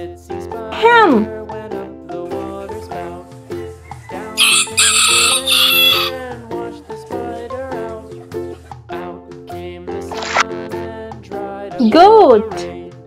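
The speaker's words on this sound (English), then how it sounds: "Hen." A hen clucks and a rooster crows in a bright, close burst amid cheerful background music for a children's farm animal lesson, with a voice speaking around the calls.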